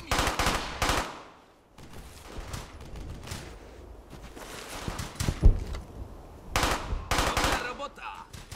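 Bursts of rapid machine gun fire in a World War II video game ring out loudly at the start and again near the end, with scattered shots and muffled clatter in between.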